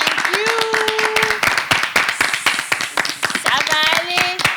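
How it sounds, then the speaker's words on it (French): A studio audience gives a warm ovation on a TV show, with dense clapping running throughout and a voice talking over it. "on va juste poser le micro et leur faire des ovations bien nourries parce qu'ils méritent amplement"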